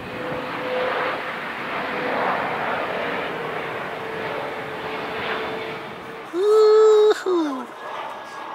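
An airliner passes overhead at a plane-spotting spot, its engines making a loud, broad steady roar that gradually fades, with a voice briefly speaking near the end.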